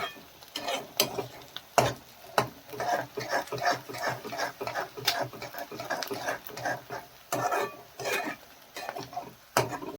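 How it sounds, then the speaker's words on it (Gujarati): Onion, garlic and chilies fry in a pan with a steady sizzle, broken by repeated spoon scrapes and clanks against the pan, and a voice talks intermittently over it. "હવે આપણું ડુંગળી લસણ મરચાં સરસ શેકાઈ ગયું છે"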